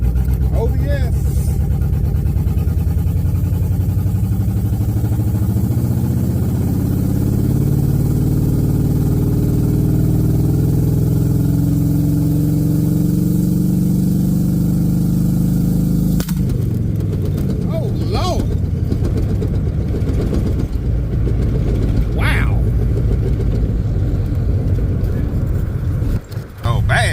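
LS-swapped OBS Ford truck pulling hard on a street drive, the engine droning and rising in pitch through the gears, then a shift and fresh surge, with people talking inside the cab over the noise.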